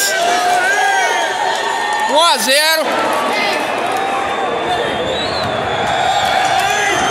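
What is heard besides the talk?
Palmeiras fans cheering in the stands after the first goal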